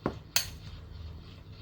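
A utensil mixing tuna sandwich filling with lime in a bowl makes two sharp clinks early on, then soft, quiet scraping against the bowl, close up with no voices.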